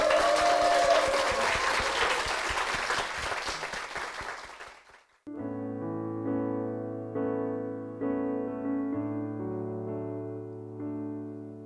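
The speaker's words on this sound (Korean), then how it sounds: "두 분께 힘찬 박수 부탁드리겠습니다" Loud applause from a church congregation for about five seconds, fading out as sustained organ or piano music begins and plays on alone.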